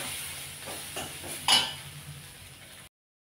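Metal spoon stirring turmeric and spices into a chickpea curry in a pan, with a few soft scrapes and one sharper clink against the pan over a faint background hiss, quiet and close.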